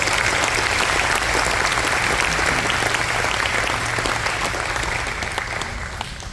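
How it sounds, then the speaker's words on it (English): A concert audience at a steel band spring concert applauds in a full, continuous roar of clapping that eases slightly toward the end, with a low hum beneath it. "So let's give a round of applause for doing that."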